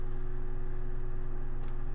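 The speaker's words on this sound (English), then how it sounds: "At least the rain provides some cover." Rain falls during a fight in Skyrim, heard as a soft, steady patter over a low constant hum with no talk.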